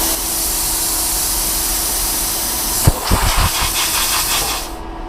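A 55-amp dual-voltage IGBT inverter plasma cutter hisses steadily as its air post flow runs after a cut, then a few brief clunks and a shifting hiss before the airflow tapers off toward the end.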